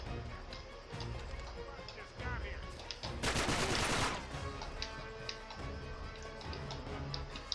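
Gunfire in the video game Uncharted 3, a burst of shots with a dense loud volley midway, mixed with game sounds and a voice talking over it.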